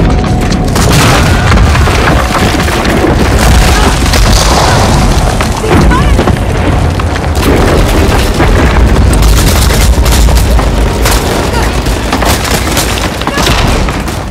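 Gunfire and explosions in Uncharted 4, a dense, loud and continuous barrage of booms, bursts and crackling impacts with a voice speaking over the din.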